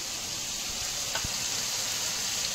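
Ginger paste sizzling in hot oil, a steady broadband hiss with a faint clink of a spoon partway through, close and alone without talk.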